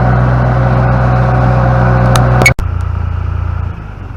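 A skid steer stuck in a slippery-mud ravine, its engine droning steadily and loud, with a sharp mechanical clunk and brief dropout midway before the engine note settles lower.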